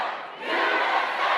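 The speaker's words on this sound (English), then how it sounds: "Both respective countries cheer for their fighters as Robbie takes the lead, 4-3." A big arena crowd roars and cheers for competing fighters, a dense, loud wall of voices that dips briefly and then swells and holds steady.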